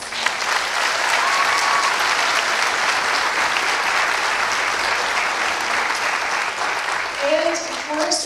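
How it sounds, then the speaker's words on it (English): An audience at a student orchestra concert breaks into loud, sustained applause, dense clapping filling the whole stretch and tapering slightly near the end. "Let's give these students a big round of applause"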